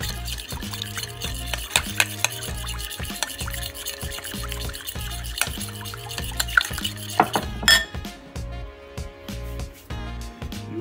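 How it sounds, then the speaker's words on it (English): Garlic whisked in a bowl for a rosemary lime garlic chicken, a busy rhythmic clatter of utensil against the bowl, close and steady, ending in a few sharper taps. "let's take some garlic. Give it a little whisk."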